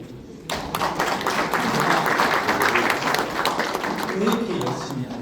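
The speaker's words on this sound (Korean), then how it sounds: "박수 한번" Lecture audience at a KAIST professor's talk breaks into sustained applause, a dense wash of clapping that starts abruptly and holds steady, with some voices mixed in.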